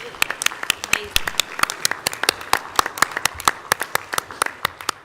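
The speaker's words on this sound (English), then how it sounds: "Please give them a round of applause." Scattered claps from a small audience at a county school board meeting honoring top-eight state track athletes, sharp separate hand claps in a steady uneven patter, fairly close, with a little faint voice underneath.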